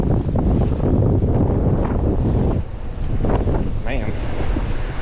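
Strong wind buffets a sailboat at sea in about 22 knots, roaring steadily with gusty surges against the microphone, mixed with rushing water and a brief lull partway through.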